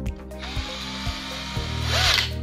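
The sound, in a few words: Bosch GSB 120 cordless drill chuck tightening on bit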